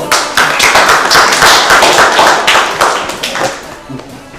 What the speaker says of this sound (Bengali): তোমরা সবাই হাততালি দাও